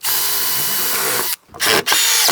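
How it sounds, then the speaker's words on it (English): A power drill bores a hole into wood during model railroad baseboard and leg construction, running steadily and loudly for over a second, then cutting out briefly before two more short bursts. "I'm going to drill a hole and put a screw through it and mount him."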